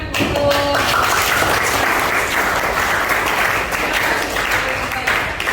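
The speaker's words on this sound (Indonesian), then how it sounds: "beri tepuk tangan" An audience at a teaching performance session applauds loudly and steadily, dense close clapping sustained throughout, with a brief voice near the start.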